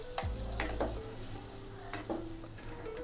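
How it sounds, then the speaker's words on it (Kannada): Ground masala frying in a pan of egg curry gives a quiet, soft sizzle, broken by a few short scraping stirs from a spoon, close by and with no talk. "ಅದಕ್ಕೇ ರುಬ್ಕೊಂಡಿರೋ ಮಸಾಲೆನ ಹಾಕ್ಕೊಳ್ಳೋದು."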